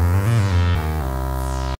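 A bass track plays in Logic Pro: a few deep synth bass notes shift in pitch, then one sustained tone holds before cutting off abruptly, clean and loud with no voices.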